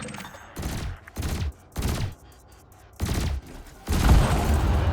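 Ship weapons in the space game Elite Dangerous fire in loud, separate bursts, four short volleys followed by a longer sustained stream, with quiet gaps between them.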